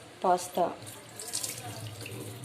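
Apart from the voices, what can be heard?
cold water poured over cooked pasta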